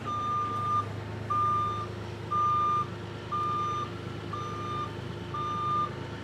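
A Bobcat machine moving with its backup alarm on gives six evenly spaced high beeps over a low engine drone. The sound is nearby and there is no talking.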